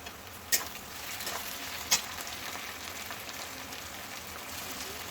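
Onions and tomato fry in a pan with a soft, steady sizzle, broken by two sharp clinks of a utensil against the pan; fairly quiet and close.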